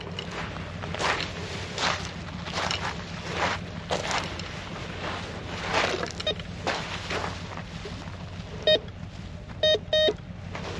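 A metal detector sweeping a Puget Sound beach gives a few sharp electronic beeps near the end, short tones in a quick cluster, heard over wind, water and scuffing footsteps on the shore.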